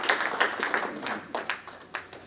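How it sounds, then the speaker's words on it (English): Audience clapping at a commemorative event at the US Capitol, a short patter of scattered claps rather than full applause, moderately near and fading out. "Another round of applause,"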